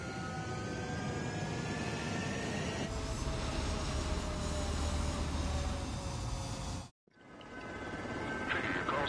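Military jet aircraft roaring for takeoff in the combat flight game Ace Combat 7: a steady, loud engine rumble with a rising whine holds throughout, cuts out abruptly near the end, then resumes.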